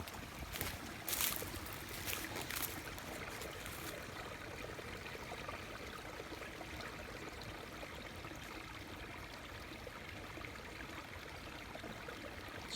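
A small spring-fed creek running down from cliffs flows with a faint, steady trickle, after a few brief louder rustles at the start.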